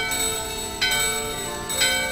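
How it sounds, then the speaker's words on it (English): A bell rings at a door in Gizamaluke's Grotto in Final Fantasy IX, two or three bright metallic chimes struck in sequence, each leaving a sustained shimmering ring that hangs over a steady background. "The bell in your hand and the doorbell are ringing"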